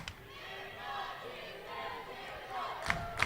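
A crowd at a Chieftains versus Miller Rustlers basketball game gives a low, steady murmur that builds into cheering, with a couple of sharp thuds near the end. A commentator talks over it.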